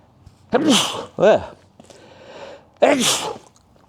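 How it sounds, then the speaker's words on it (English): Sawdust-triggered sneezes in a workshop: three sharp bursts, two close together and a third after a short pause with a soft breath between, loud and close. "it's sawdust making me sneeze, y'all"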